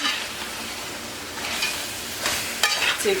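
Fish being stirred into a bell pepper stew base in a pot, a close sizzling bubble with scraping stir strokes that grow busier toward the end, alone without talk.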